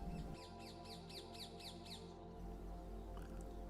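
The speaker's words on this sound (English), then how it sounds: "the rose-ringed parakeets have adapted to city life and thrived in their new" Rose-ringed parakeets in Hyde Park give a run of about seven rapid, repeated screeching calls, then stop, over a dense, steady background of low rumble and hum.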